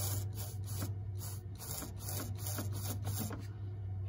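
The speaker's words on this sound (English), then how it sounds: "the ball is jumping on the seat right now." A check valve ball in a simple boost controller on a 2G DSM chatters rapidly against its seat, a close, steady stream of fine ticking over a constant low hum.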